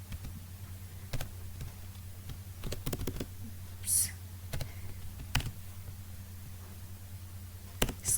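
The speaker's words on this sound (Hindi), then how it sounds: "मेरे ना इसका थोड़ा कीबोर्ड का इशू है" Computer keyboard being typed on, scattered sharp key clicks spaced irregularly over a low steady hum, faint and close, with no one speaking.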